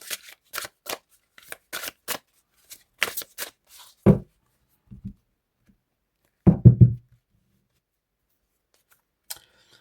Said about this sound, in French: je fais une coupe de 2 cartes